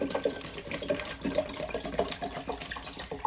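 Water pours steadily into a 1.5 litre jar, a close, bubbling, gurgling stream with small splashy fluctuations that runs throughout.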